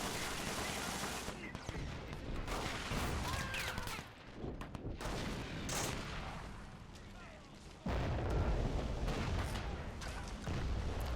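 Artillery fire and gunfire in the Men of War: Assault Squad WWII game during a 1940 German invasion of France, dense overlapping rifle and machine-gun bursts with booming artillery blasts, continuous and chaotic.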